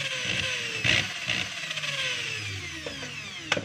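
DeWalt 13mm hammer drill running on test, a whining motor with sweeping pitch and a few short knocks and rattles, close by and without talk.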